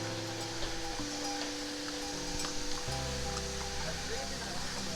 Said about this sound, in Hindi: सामने ये मुझे एक बहुत ही सुंदर झरना दिख गया गाइस